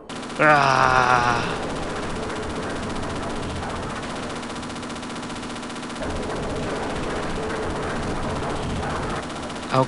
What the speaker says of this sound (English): I'll just shoot everybody like this.